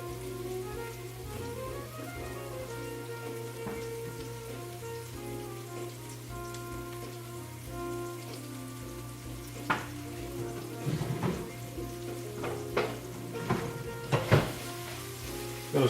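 Sliced shiitake mushrooms seasoned with salt and pepper sizzle steadily in hot olive oil, a close crackling hiss that builds later with sharper pops and clicks as they are stirred.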